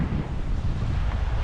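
Strong wind buffets the microphone on a Baltic Sea beach at Rewa, Poland, with surf rolling in beneath it as a loud, continuous low roar.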